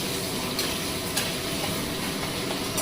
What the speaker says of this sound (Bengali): আমি পনির একটু ভেজে নিই